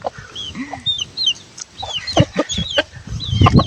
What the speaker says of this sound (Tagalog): manok ko pang pinag-experimentuhan niya guys